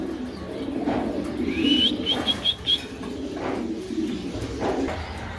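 White show King pigeons, including a hen, coo softly in a loft against a steady background murmur. A brief chirping call and a faint flutter of wings also come through.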